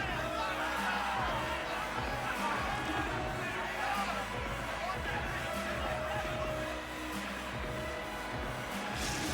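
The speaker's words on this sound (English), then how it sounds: "The crowd is roaring, so much energy in the building." Roaring crowd at an EA Sports hockey game, a dense, loud, continuous wash of cheering and arena noise throughout, with babble mixed in.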